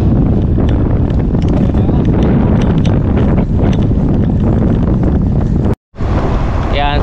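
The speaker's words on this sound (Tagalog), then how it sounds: "pag ganito kalakas sa hangin" Loud, steady wind roar buffets the microphone while riding a road bicycle uphill on a long-distance tour, broadband and constant for the whole stretch, with a brief dropout near the end and a voice briefly audible over it.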